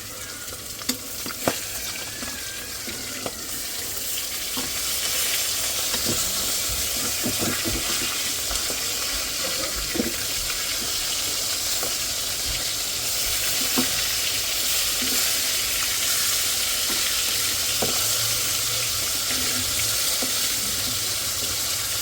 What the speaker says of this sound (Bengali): তেল দিয়ে হলো ভাজতেছি এই জন্য পেঁয়াজ একসাথে দিয়ে দিছি